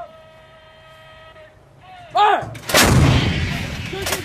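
US and Philippine Marines fire artillery during a military exercise: a loud, close blast rings out then rolls into a long rumbling echo, with shouted commands and radio tones around it.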